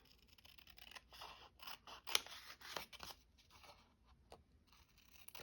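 Scissors trimming paper for a junk journal, a series of crisp, close snips and slicing strokes in uneven bursts, fairly quiet and heard alone.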